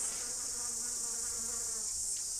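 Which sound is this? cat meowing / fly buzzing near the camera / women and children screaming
fly buzzing near the camera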